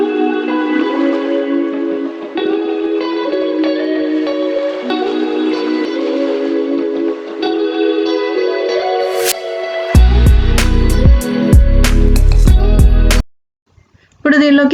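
Cashews, almonds and dry coconut are ground into a masala paste in a mixer grinder for Hyderabadi dum chicken; loud short grinding pulses come near the end, after a long stretch of music.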